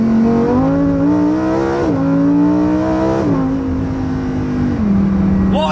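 A Lamborghini Huracan Performante V10 engine revs loud and close, rising through several gear-like sweeps in pitch and then dropping back, a sustained raw roar with no voices over it.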